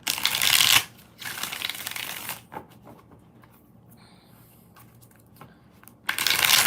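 Tarot cards are shuffled in two loud riffling bursts near the start, then a quiet gap with small handling taps, before another brisk shuffle begins at the end.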